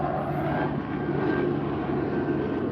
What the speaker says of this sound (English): Oh, I got a helicopter flying overhead.